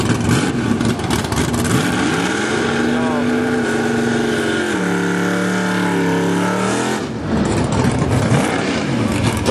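A drag racing car with uncapped headers at an NHRA Division 6 national event, the Oregon Open at Portland in 2008, roars loudly nearby, its engine note rising and falling with revving.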